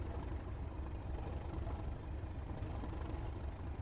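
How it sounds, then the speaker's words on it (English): A Sulzer diesel locomotive engine in the Train Sim World 4 game gives a steady, low rumbling drone with no breaks, quiet and constant throughout. "It's just that distinctive sound of the engine, isn't it? All the Sulzer ones."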